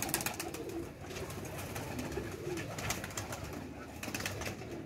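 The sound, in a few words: female teddy pigeon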